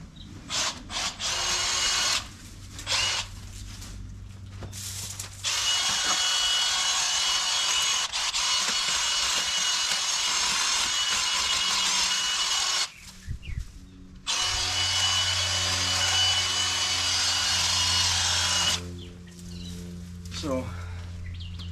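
A Milwaukee M12 Fuel 8-inch cordless hedge trimmer cuts a hedge, its motor buzzing loudly in long bursts separated by short pauses and stops.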